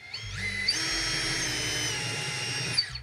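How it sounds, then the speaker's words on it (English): A quarter-inch power drill bores holes into a wall, its motor spinning up with a rising whine and then holding a steady, close, loud drone before winding down, with no talking. "I'm gonna use a 1/4 inch drill to drill the holes out here."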